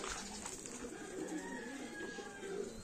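Racing pigeons coo softly in their loft, low murmuring calls repeating through a faint, steady background.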